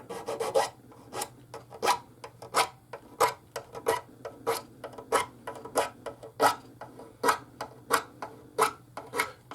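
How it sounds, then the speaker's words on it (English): A metal file rasps along the sharp fret edges of an old guitar rescued from an attic, about twenty crisp back-and-forth strokes in an even rhythm, close and clear with no talk. "they run a file down the side here, and those little edges are still a little bit sharp. So we're smoothing them up"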